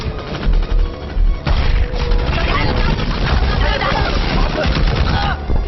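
Rapid bursts of automatic machine gun fire in a video game crackle loudly and continuously, with booming blasts mixed in.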